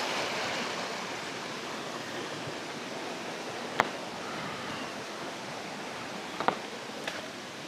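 Small waterfalls at a hidden lagoon in Magallanes, Cavite, a steady broad rush of falling water heard from a short distance, continuous throughout with a few faint clicks near the end.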